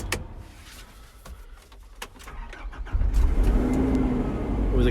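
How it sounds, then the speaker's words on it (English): A Nissan Cabstar 2.5 dCi diesel tipper cranks and catches at about three seconds, then settles into a steady, close, rumbling idle that grows slightly louder toward the end; a few clicks come before the start. "With a quick preheat, fires into action, no problem, purrs away"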